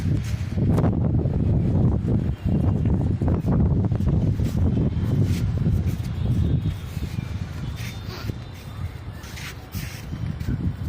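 Strong wind gusts roar and buffet a microphone outdoors while a kite flies, a steady rushing noise throughout with faint bird calls in the distance.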